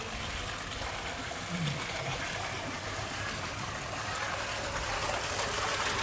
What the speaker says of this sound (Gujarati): મોટર ચાલુ જ છે